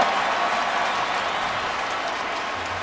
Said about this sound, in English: And credit that to the crowd noise.